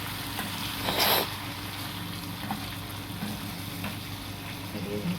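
Potatoes frying with chicken in a pan on a small kitchen stove give a soft, steady sizzle with a brief burst of stirring, heard without talk.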